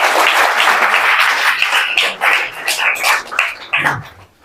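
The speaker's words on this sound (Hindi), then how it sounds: "अभी पिंटू के लिए ताली तो बजा दो भाई" A small audience of students claps for a classmate, the clapping dense at first and then breaking into scattered, uneven bursts that fade to quiet near the end.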